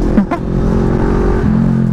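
Big motorcycle fitted with an aftermarket Villain exhaust by Zero One Moto, revving in a short, loud, close burst with a throaty rise in pitch before settling into a steady roar.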